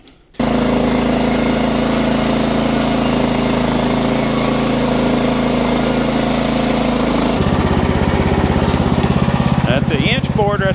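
Woodmizer LX50 Super sawmill running as it cuts an inch off a log, a loud steady engine drone that shifts pitch partway through and keeps going under the cut.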